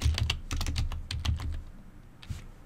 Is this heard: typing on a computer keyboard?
yes